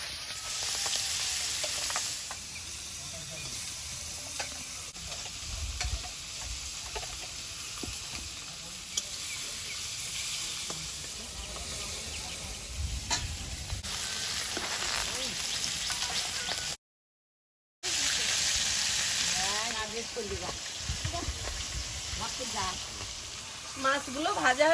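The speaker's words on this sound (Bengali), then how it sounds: "এবার মাছগুলো এক এক করে দিয়ে দেবো।" River fish, pangas and tengra, sizzle loudly in hot oil in a kadai, a steady crackling hiss with occasional stirring and a brief break, while someone talks now and then.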